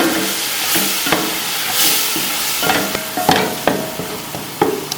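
Garlic paste and red chili being stirred in a hot pan for chicken biryani: a loud, hissing sizzle with repeated scraping and clanking spoon strokes against the metal.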